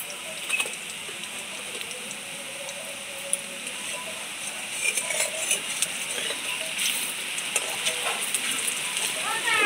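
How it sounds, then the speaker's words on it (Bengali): Pointed gourd koftas fry in a pan of oil with a continuous crackling sizzle. The sizzle grows busier and louder toward the end, with occasional sharp pops and clicks. "পাল্টে ভালো করে ভাজা করে দিতে হবে।"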